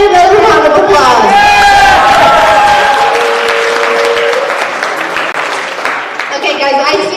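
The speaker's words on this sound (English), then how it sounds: "let's give Aaron another round of applause" Applause and cheering for Aaron from an audience at a startup competition finals, loud and sustained across the whole stretch, with crowd voices and whoops mixed in and tapering slightly before swelling again at the end.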